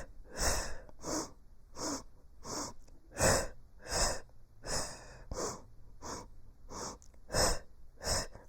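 Sharp rhythmic breaths, pulsed inhales and exhales done as a counted exercise, sound close and steady across about a dozen short puffs with no talking over them.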